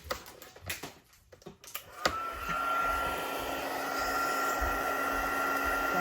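Heat gun blowing on a paper graduation card, a few light taps and handling noises giving way to a steady, loud, whooshing hum that runs on without talk.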